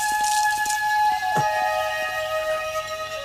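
Water is splashed onto a man knocked unconscious by a fall in a Hindi film scene, giving a short drippy, squishy splash with a quick descending swoop over steady sustained tones.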